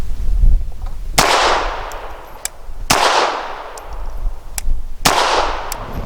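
Three sharp pistol shots from a Bersa Thunder 380 with threaded barrel, fired with jacketed hollow point rounds, spaced roughly two seconds apart, each a loud crack followed by a decaying outdoor echo, with faint clinks between them.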